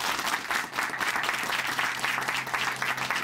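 Church congregation at a Korean church in Chuncheon giving a big round of applause after a testimony, steady dense clapping filling the room throughout, with a low hum underneath.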